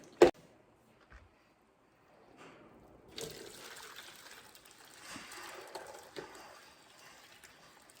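Homemade soy milk pours through a strainer pitcher: a faint early clink, then from about three seconds a soft, continuous trickling stream that swells slightly and fades, quiet and close, with no voices.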